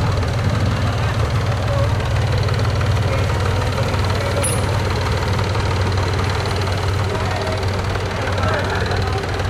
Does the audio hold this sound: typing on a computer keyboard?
no